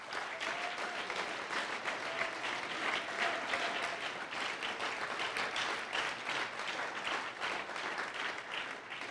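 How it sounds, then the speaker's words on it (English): An audience at a Utah Senate campaign endorsement event applauds a candidate's wife, sustained dense clapping from a crowd filling the room evenly for about nine seconds, moderately distant and unbroken, with no speech over it. "Let's give her a round of applause."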